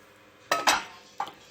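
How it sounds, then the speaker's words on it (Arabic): A frying pan being washed by hand in a kitchen sink: three close metallic clanks and knocks in quick succession, the second strongest, against a quiet background with no talk. "شوفوا هاي المقله هذه كل ما نغسلها"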